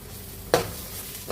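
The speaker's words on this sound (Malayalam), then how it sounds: "എല്ലാം കൂടി നന്നായിട്ടൊന്ന് വഴറ്റി വരട്ടെ" Green chilies and curry leaves sauté in a pan with ginger-garlic paste. A soft steady sizzle runs throughout, broken by a sharp stirring scrape or clink near the middle and a faint one at the end.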